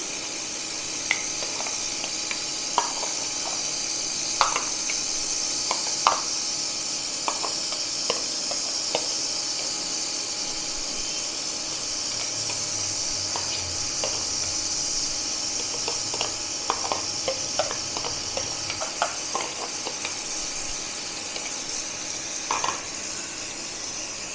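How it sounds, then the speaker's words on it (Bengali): Onion frying in hot oil in a kadai for a Kolkata street-style snack, with a constant, fairly quiet hiss broken by scattered small crackles and pops. "এবার পেঁয়াজটা একটু ভেজে নেবো।"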